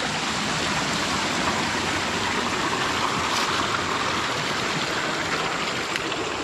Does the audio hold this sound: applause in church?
no